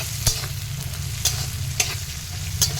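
Cashews and raisins fry in a pan after carrots and peas, a soft continuous sizzle punctuated by a few sharp spatula taps and scrapes as they are stirred, close and without talk.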